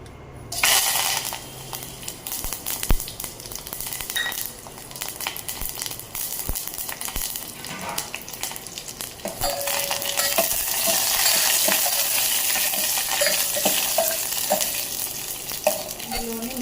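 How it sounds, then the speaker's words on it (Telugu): Mustard seeds, cumin, dried chillies and curry leaves hit hot oil for a tamarind rasam tempering: a loud crackling sizzle with sharp seed pops, then a fuller spitting hiss that swells and stays close. "ఆయిల్ కొంచెం వేడెక్కిన తర్వాత తాలింపు దినుసులు వేసుకుందాము ఆవాలు జీలకర్ర ఎండుమిర్చి కరివేపాకు"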